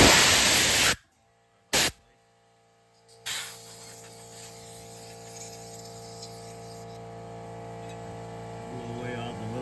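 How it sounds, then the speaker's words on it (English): Short bursts of compressed air from an air hose blow metal shavings clear during an IMS bearing repair on a Porsche Boxster 986, two sharp hisses followed by a steady low hum. "Blow away all the little shavings."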